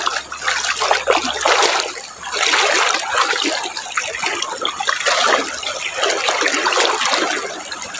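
Water splashing steadily as people wade across a river, a continuous loud rushing and sloshing with no talk.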